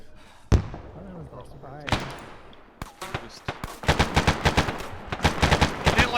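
Gunfire in the military video game ArmA: a few isolated shots ring out over radio chatter and talk, then a dense burst of rapid automatic fire cracks repeatedly close by.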